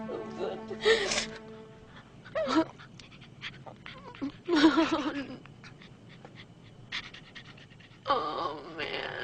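A dog pants and whimpers in bursts close by, with breathy rhythmic panting and soft high whines, while a person speaks soothingly between the sounds.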